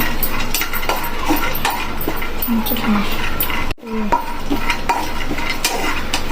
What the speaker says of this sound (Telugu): కొంచెం వేగిపోతుంది చూడండి